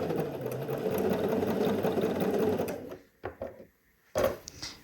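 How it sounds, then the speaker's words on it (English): A sewing machine with locking stitches stitches a Cashmerette Loring dress, whirring steadily up close for about three seconds before stopping, followed by a few scattered clicks and handling noises. "So I'm just sewing"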